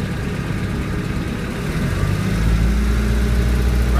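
A Mercruiser 3.0 TKS boat engine runs steadily, its throttle nudged up slightly partway through so the low rumble grows louder and deeper, a continuous close drone with no talking.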